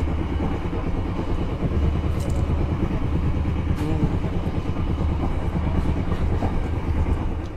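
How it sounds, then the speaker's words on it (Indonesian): Probowangi passenger train arriving at Rambipuji station, heard from on board as a steady, loud rolling rumble with rhythmic clickety-clack from the wheels. "perjalanan kereta api Probowangi yang saya naiki kini telah tiba di stasiun Rambi Puji"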